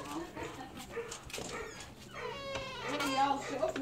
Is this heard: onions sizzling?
no